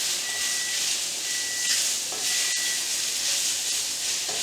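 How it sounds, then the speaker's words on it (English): Prawns sizzle and hiss steadily in a hot pan while being stir fried for a prawn curry, a close, continuous frying sound with faint scraping as they are moved around. "So we're going to stir fry these prawns"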